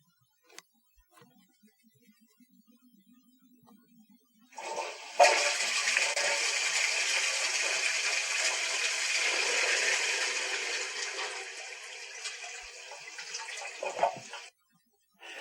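A toilet flushes in a quiet room: after a faint click and brief trickle, a loud rush of swirling water runs for about ten seconds, then cuts off abruptly.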